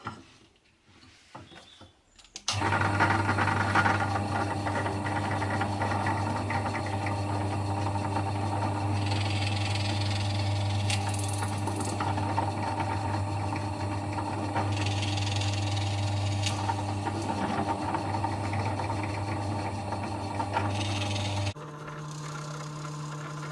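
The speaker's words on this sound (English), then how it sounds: "So I've just drilled some holes, and it was very secure, very easy to hold, much easier than using your hand." A power drill runs continuously for about twenty seconds, boring holes in a workpiece clamped in a Silverline 100mm quick release drill vice, with a steady motor hum and a few brief load changes, close and loud, no talking.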